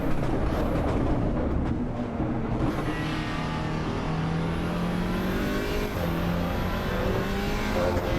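A race car engine in the driving game Assetto Corsa EVO revs and pulls through the gears, loud and close, with rising and falling engine tones and no speech.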